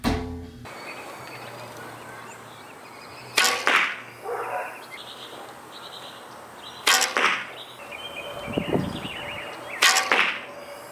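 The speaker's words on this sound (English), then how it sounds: "the last time I shot this bow on camera so you can kind of get a sense of the sound of how loud it is" Three sharp recurve bow shots spaced a few seconds apart, each a snappy twang and whoosh followed by a thud, in a quiet outdoor setting.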